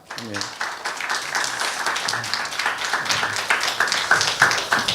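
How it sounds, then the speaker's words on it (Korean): Audience applause at a Christian humanities forum as panelists are welcomed to the stage: dense, sustained clapping from a crowd filling the room, with some voices mixed in. "우리 패널분들 앞으로 모시겠습니다. 박수로 환영하겠습니다."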